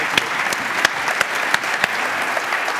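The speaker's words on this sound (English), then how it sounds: "big round of applause" An audience at a public talk in Cleveland applauds steadily, a dense wash of clapping with a few sharper individual claps standing out; no voices over it.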